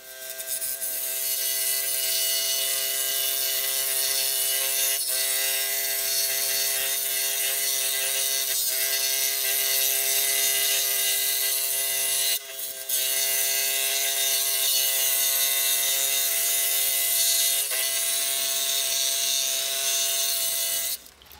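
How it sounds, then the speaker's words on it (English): A drill bores holes through a tambourine kick plate, with a steady, loud, close mechanical whine and grinding held continuously. It cuts out briefly twice, near the middle and at the end. "So carry on drilling that."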